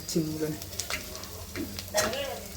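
Spices stirred in a hot pan with a spatula for village-style rasam, a steady sizzle with scraping stirs and occasional clinks of metal, heard close while people talk over it.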